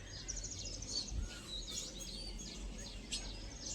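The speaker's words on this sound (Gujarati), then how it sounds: "પક્ષી આવ્યા." Small birds chirp outdoors in the morning, faint, scattered high tweets repeating over a soft background hush, with no talk.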